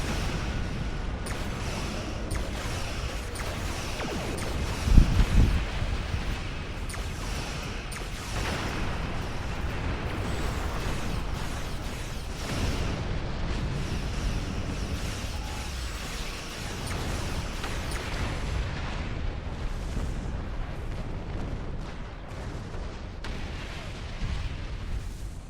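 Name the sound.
torpedoes fired at ships in a Star Trek video game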